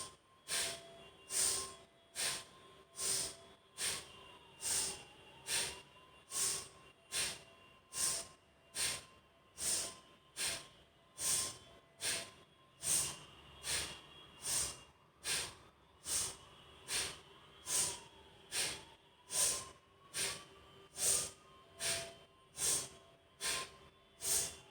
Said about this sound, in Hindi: let us do 15 strokes of breathing in and breathing out active bhastrika